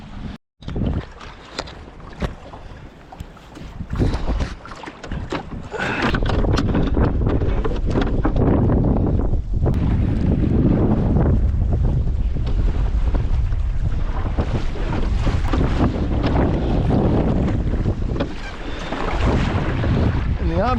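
Strong wind buffets the microphone at a boat anchorage, with gusty low rumbling and water noise building and surging continuously, loud and close.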